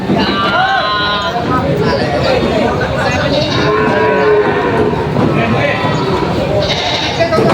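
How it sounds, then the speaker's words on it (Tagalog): Several deep, drawn-out lowing calls from water buffalo, unloaded from trucks at a livestock market in Padre Garcia, Batangas, rise over a constant crowd murmur and engine noise, with voices talking throughout. "Mga kalabaw po yung binababa na nila galing Bicol."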